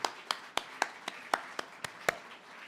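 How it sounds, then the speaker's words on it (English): Slow, evenly spaced single hand claps ring out one after another in a room, crisp and fairly close, about four per second, without talk. "give yourselves a big hand of applause"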